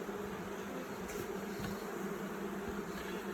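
A steady low hum of many honeybees buzzing together in an open hive of four to five frames, close and continuous, with no voices.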